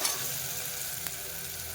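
Pigeon pea lentils go into a sizzling tempering of onion, tomato and curry leaves, a steady close frying hiss that carries on throughout, with a faint stirring scrape.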